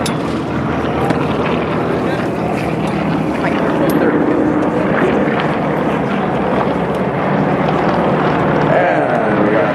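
Propeller aerobatic airplanes, apparently Yak-52s, flying at the Rocky Mountain Air Show 2012: a loud, steady engine drone heavily buffeted by wind noise on the microphone for the whole stretch.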